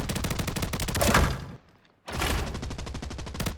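Rapid automatic gunfire in an online shooter video game, two loud sustained bursts split by a short pause.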